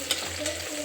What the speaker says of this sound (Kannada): ಇವಾಗ ಒಗ್ಗರಣೆ ಹಾಕ್ತಾಯಿದ್ದೀನಿ